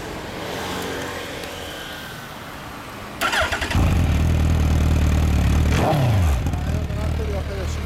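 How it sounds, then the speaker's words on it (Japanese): Engine of a 2014 Suzuki GSX1300R Hayabusa fitted with a Yoshimura exhaust, started up near the listener: after a moment of background talk it fires into a loud, deep, steady idle with a short blip of revs. "そのエンジンを聞かせてもらえますか。"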